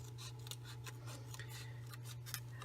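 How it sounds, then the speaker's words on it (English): Scissors snip through a lace doily in a quick series of soft crisp cuts, close and quiet, over a low steady hum. "I'm just going to flip it over and cut it off."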